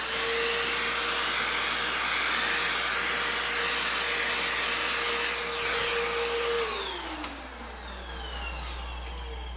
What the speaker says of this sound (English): Get a quick vacuum of the chips